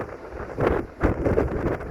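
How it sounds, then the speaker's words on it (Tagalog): Strong wind gusting in Taiwan ahead of a typhoon, roaring across the microphone in two broad surges with a steady rush between them and no one talking. "Naririnig nyo ba guys yung ihip ng hangin?"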